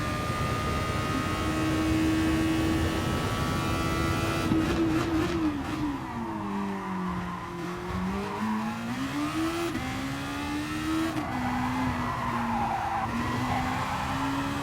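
Tanso Formula race car in a racing video game at the Nurburgring GP circuit, its engine droning steadily and rising and falling in pitch through chicanes, with tire squeal and skidding layered in, loud and continuous.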